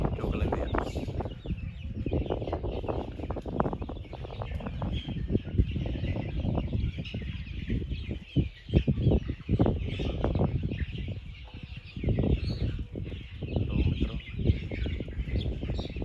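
Many 37-day-old desi chicks cluck and peep continuously up close on a poultry farm, a dense chattering flock with occasional louder calls and brief rustling.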